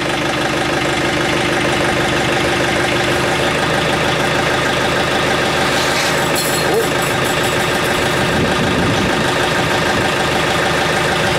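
A vehicle engine running steadily after being jump-started indoors on a rainy day, a loud close idle with a constant low drone and a few clanks partway through.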